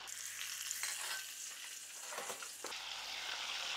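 Eggs frying in oil with a pinch of turmeric, a close, steady sizzle with stirring scrapes that drops to a quieter, even hiss near the end.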